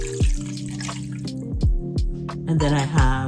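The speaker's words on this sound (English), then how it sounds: "And then we're gonna pour our liquids." Beef broth is poured into a cooking pot for short ribs, a close gurgling stream of liquid with pitched glugs and splashes that comes in several short pours.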